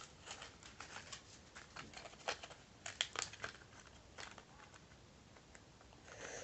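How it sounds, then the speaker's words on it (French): Plastic packaging of a fishing lure with treble and double hooks being unwrapped, close, quiet crinkling and crackling in irregular bursts with small sharp snaps, fading to softer rustling near the end, with no talking. "Donc je vais vous le déballer pour vous le montrer."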